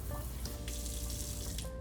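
Water runs steadily from the sprayer of a touch-activated faucet into a sink, a constant close rushing stream with no talk.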